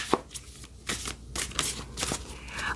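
A deck of tarot cards being shuffled up close, with several quick riffling bursts of papery flutter and slapping, each lasting a fraction of a second, running one after another.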